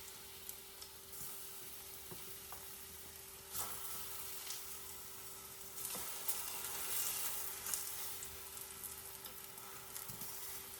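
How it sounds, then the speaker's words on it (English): Sweet plantain slices frying in a pan make a soft, steady sizzle with occasional faint pops and crackles, fairly quiet and close, with no talking. "we just put them in there and fry them until they're golden brown"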